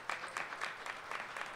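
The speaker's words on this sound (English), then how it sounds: "Please give me a round of applause." Audience applause at a Brooklyn gathering honoring Jackie Robinson, a fairly quiet, steady patter of clapping from a modest crowd lasting under two seconds, with no voices over it.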